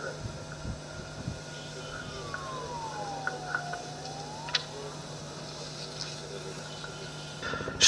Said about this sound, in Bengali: আপনারা দেখতে পাচ্ছেন অ্যাম্বুলেন্সটি লিমা ট্যাক্সিওয়ের দিকে এগিয়ে যাচ্ছে